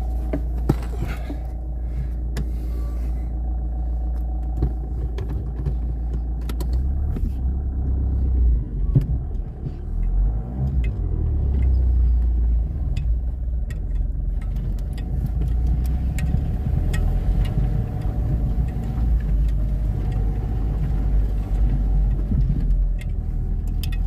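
A car engine runs with a low, steady, throbbing rumble as the car moves, and the sound stays continuous and close throughout.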